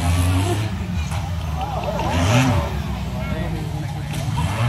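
An off-road buggy at a tuff truck sandrail fair event revs hard, its mid-pitched engine snarl climbing and dipping in a quick burst, with crowd noise and a commentator talking over it.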